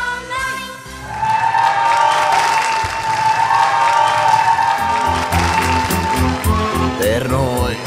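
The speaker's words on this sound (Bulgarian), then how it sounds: "в което най-добрите бяха достойно наградени с възторжени аплодисменти" Enthusiastic applause from an audience at a children's festival, loud dense clapping that swells after a quiet start and carries on for several seconds before thinning, with music tones in the background.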